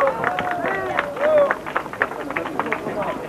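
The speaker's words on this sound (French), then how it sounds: "On l'applaudit." Crowd at an outdoor motocross race applauding and cheering the winner, dense claps and voices mixed with a loud announcer speaking over the top.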